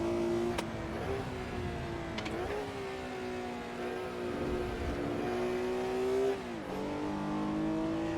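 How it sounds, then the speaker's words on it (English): A 1960s GTC race car in the Assetto Corsa racing game revs hard through repeated gear shifts, its engine note climbing and dropping in several sweeps, fairly quiet overall with no talking. "That lovely low down growl from the engine sounds so good."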